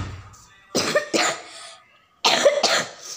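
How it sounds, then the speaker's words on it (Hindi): A man coughing three times indoors, with two close, harsh bursts, a pause, then a final heavier cough, loud and alone without speech. "गाइस मुझे खांसी हो रही है।"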